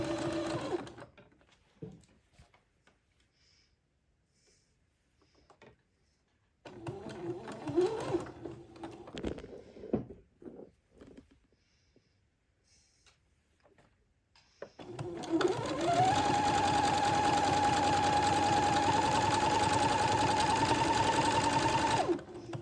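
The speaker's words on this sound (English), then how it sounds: "Once I get it tacked into place, I can zigzag a little bit faster." A sewing machine zigzag-stitches lace onto a dress to lengthen it, first in short, hesitant bursts separated by quiet pauses, then in a long, steady, close-up run at a faster pace.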